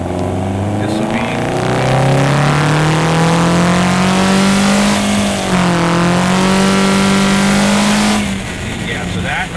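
A Toyota Corolla E210 with a 2.0-litre engine, CVT and cold air intake accelerates hard, its engine note rising steadily and loud over about eight seconds before easing off near the end.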